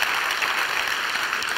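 Audience applause at a presentation on social entrepreneurs, a short burst of steady, moderately loud clapping with no voices over it.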